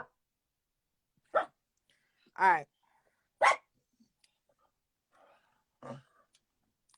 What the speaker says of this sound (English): y'all can hear the dogs.